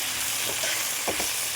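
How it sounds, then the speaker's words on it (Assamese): Tomatoes fry with turmeric and salt in a pan, giving a steady close sizzle with a few stirring scrapes near the end and no voices. "আৰু বিলাহীখিনি দি ভালদৰে ভাজিম অলপ দেৰি"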